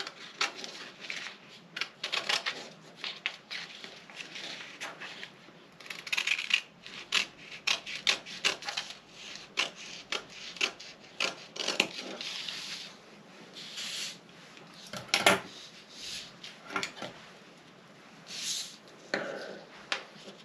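Scissors snip through fabric along a bustier pattern in quiet, irregular crisp cuts and rustles, with paper and cloth shuffling between them.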